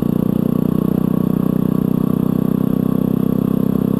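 A Yamaha WR250R motorcycle engine runs steadily up close, a loud even drone with a fast pulsing beat and no talk over it.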